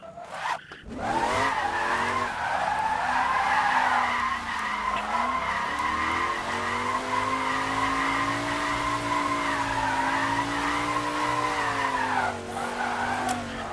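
A car drifts along a mountain road in the racing game Assetto Corsa, its tires squealing in one long, sustained skid over a steady engine drone that shifts pitch slightly as the slide continues, loud and close throughout.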